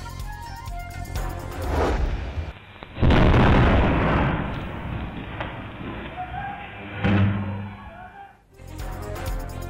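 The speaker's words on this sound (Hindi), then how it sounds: "धमाके की CCTV फुटेज मंजर आम पर आ गई" An explosion rips through an illegal fireworks factory in Multan, caught on a security camera as a loud, broad blast with rumbling bursts and a second surge before a sudden drop-off, with noisy street ambience around it.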